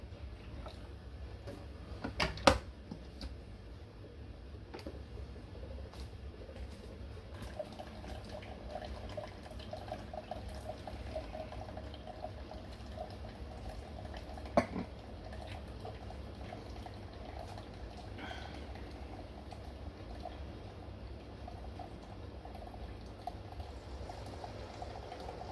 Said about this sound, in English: some more water. Again, I'm filling to the 6-ounce mark.